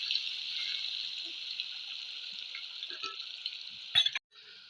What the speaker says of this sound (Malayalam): ഇനി നമ്മുടെ മസാല പോയിട്ട് വെച്ച കപ്പക്ക കുറച്ചിട്ട് കൊടുക്കേ ഫ്രൈയാക്കി എടുക്കാം